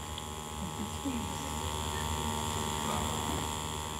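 Tattoo machine with a fine needle driving ink into skin, a steady electric buzz and hum running unbroken and fairly loud throughout.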